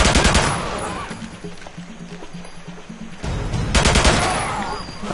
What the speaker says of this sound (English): Oh, I'm still getting shot, though.